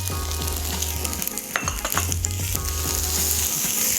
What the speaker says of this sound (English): we'll get that sauteing.